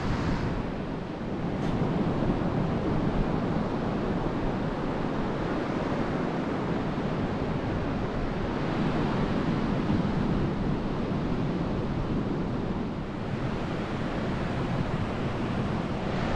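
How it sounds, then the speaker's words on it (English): Surf breaks steadily along a beach on the Yorke Peninsula near shipwreck sites, with gusty wind buffeting the microphone throughout; a continuous, loud wash of waves with no talking. "we made it down the bottom of the stairs and we're on the beach"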